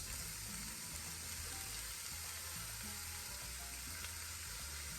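Fried saltfish in hot oil with tomatoes going in, a dense, even sizzle that holds steady throughout, close but low in level, with no talking.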